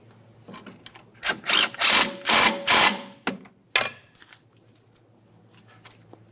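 Power tool driving a strut mounting bolt on a 2006-2012 Ford Fusion: several short whirring bursts in quick succession, close and fairly loud, then a final brief burst and quiet.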